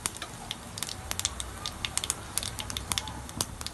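Cumin seeds dropped into hot oil sizzle and crackle steadily, with dense popping bursts over a continuous hiss, close and fairly quiet, for a South Indian chutney tempering.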